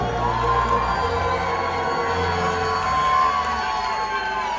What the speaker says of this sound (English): cheer now for our queens of the town!